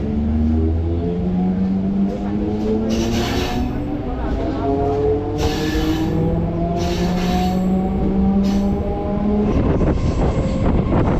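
A passenger train running from Chengalpattu toward Arakkonam, with a loud continuous rumble and drawn-out tonal wheel and horn-like whines that sweep across the clip, heard from on board without speech.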